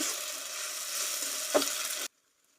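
Onions sizzle steadily in a pan as they fry toward golden brown, a dense crackling hiss with one sharper pop near the end before the sound cuts off abruptly into silence.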